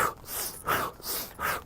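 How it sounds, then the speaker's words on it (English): Rapid, forceful breaths taken in through the nose and pushed out through the mouth at a high pace as a breathing exercise: about three sharp, close-up huffs in under two seconds, each with a strong airy rush. "I do 30 inhales from the nose, exhales through the mouth at a high pace"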